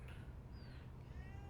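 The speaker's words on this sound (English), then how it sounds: "you can probably hear my cat in the background." A faint cat meow in the background, a couple of thin drawn-out cries over a low steady hum.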